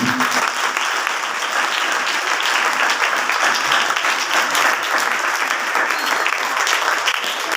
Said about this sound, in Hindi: उन सब के लिए एक दफ़ा भरपूर तालियां।